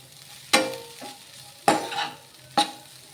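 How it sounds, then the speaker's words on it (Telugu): Puffed rice noodles being stirred in a hot pan: three sharp scraping stirs at roughly one-second intervals, each followed by a short sizzle that fades, close and moderately loud with quiet gaps between. "మన మరమరాల నూడిల్స్ని అయితే వేసేసుకొని కలిపేసుకుందాము"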